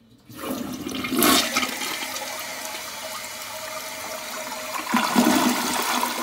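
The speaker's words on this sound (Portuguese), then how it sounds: "eu vou dar descarga e o maior fluxo de jato de água realmente é lá" A toilet bowl with a water leak flushes in a strong, close rush of water that swells at the start, churns steadily, then surges again near the end as the jet drains, with no talking.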